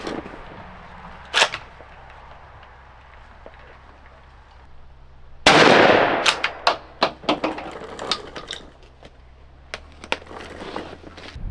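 A shotgun fires a TSS turkey load at a target 17 yards away. One sharp, loud blast sounds midway through a quiet stretch, followed by scattered clicks and handling noises.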